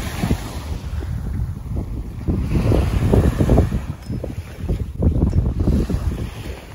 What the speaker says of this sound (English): The waves are very calm.